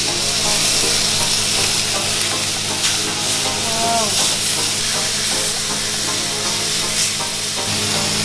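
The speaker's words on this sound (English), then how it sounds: "Now let's turn over the steak" A steak sizzles steadily in a hot pan after being flipped, a bright continuous hiss with crackling spits and a few stirring scrapes, close and loud, with brief faint talk in the background.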